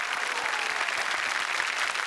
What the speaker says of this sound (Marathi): मुरंबासाठी जोरदार टाळ्या